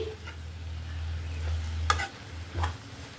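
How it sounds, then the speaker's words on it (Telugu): Gongura leaves fry in oil at medium flame while a spoon stirs them, for a chicken pachadi. A soft, constant sizzle sits under a few sharp scraping stirs and taps against the pan. "ఈ గోంగూర అంతా ఇలా కొంచెం పైకి కిందకి కలుపుకుంటూ మొత్తం వేయించుకోవాలి"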